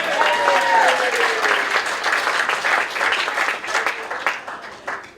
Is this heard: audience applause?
yes